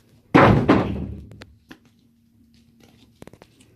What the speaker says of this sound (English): Seffi's knocked over the gate because I didn't close it, I just lent it up.